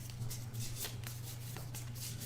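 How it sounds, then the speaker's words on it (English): A wound deck of game cards from the X-Files edition of a Legendary Encounters board game being shuffled, soft repeated riffling and sliding strokes close by over a steady low background hum. "So we'll shuffle that up."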